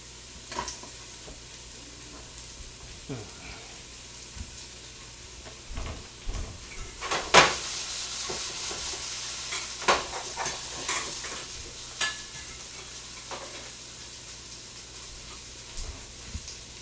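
Teriyaki chicken hitting a preheated pan gives a steady, moderate sizzle, with scattered clicks and clatter from utensils and one sharper burst partway through.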